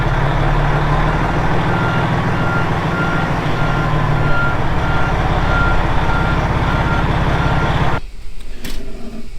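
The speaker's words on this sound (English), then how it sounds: "I'm going to turn this around and reverse up" A truck reverses with a loud, steady electronic reversing beep repeating over a droning engine, the beeping and motor continuing close by before cutting off abruptly near the end.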